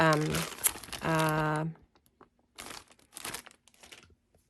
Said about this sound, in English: So I'm going to take this side, and I'm going to add my tape.